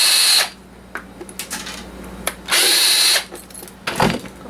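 A power drill removes screws from a heating coil element on a workbench, with several short loud whirring bursts separated by quiet gaps, close up.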